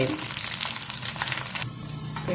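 A noodle omelette fries in a pan after being flipped, giving a brief close, even sizzle with faint stirring scrapes.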